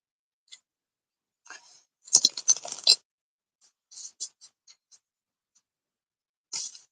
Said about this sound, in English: Shuffling cards on my lap.